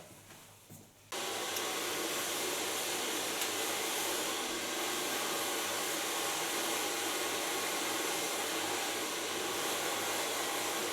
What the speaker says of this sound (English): Gonna blow dry this with a medium large brush